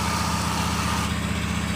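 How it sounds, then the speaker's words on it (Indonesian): An electric blender grinds the ingredients for Padang-style cincang, a continuous, loud, even motor whir with a steady droning pulse throughout and no voices. "langsung aja kita blender semuanya"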